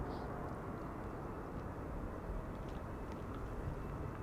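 Airliner arriving at Amsterdam Schiphol Airport after a long-haul flight from Shanghai, a two-year-old jet, producing a steady, broad engine roar that stays constant and moderately loud throughout without any talking.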